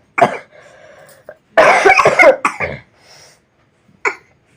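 Several harsh coughs from one person, close and loud, come in short bursts with quiet breathy gaps between them and no talking.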